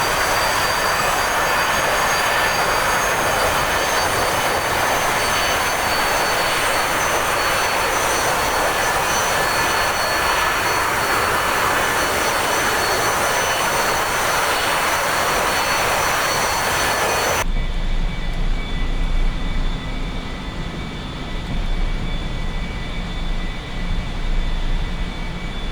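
A-4E-C jet roaring loudly and steadily during its takeoff run in the DCS flight sim, broadband engine and rushing noise filling most of the clip before cutting to a quieter, lower cockpit rumble.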